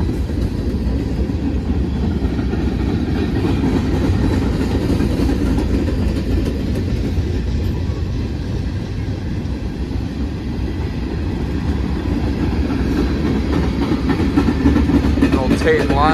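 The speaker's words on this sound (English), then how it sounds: "Like 50 hoppers, a tanker, and then a coil shield, then like 500 more hoppers." Long freight train of hopper cars with a tank car rolling steadily past at close range, a continuous loud rumble with rail clatter throughout.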